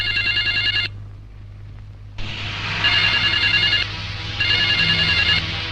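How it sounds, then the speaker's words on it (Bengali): A telephone rings loudly in a Bangla feature film, its electronic trilling bell sounding in three bursts separated by short pauses. "কি ব্যাপার, ফোন বাজতাছে"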